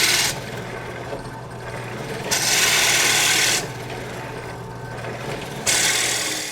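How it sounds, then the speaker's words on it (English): A drill bit bores into a wooden cigar holder blank, giving a loud, steady rasping grind that swells and drops in alternating stretches of a couple of seconds each, with a low motor hum underneath. "Now once I've drilled this down to the depth I need, we're gonna have fun because we're gonna switch to the 7/8 inch bit."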